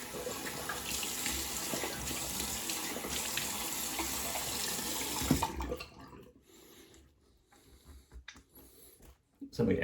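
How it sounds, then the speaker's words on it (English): Cold water gushes from a bathroom tap into a sink during a shave rinse, a close, steady stream that stops abruptly partway through, leaving quiet drips and handling sounds. "Switch it over to nice cold water."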